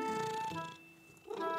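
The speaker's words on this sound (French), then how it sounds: "Maman et Caillou entendirent un miaulement discret." A cat gives soft meowing and purring sounds in a quiet indoor setting, a gentle tonal call that fades and then rises again near the end, heard alone without talk.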